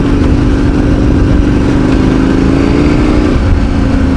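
A KTM 1090 Adventure R motorcycle engine runs loud and close, a sustained throaty drone whose pitch climbs slightly as it revs, then drops back near the end.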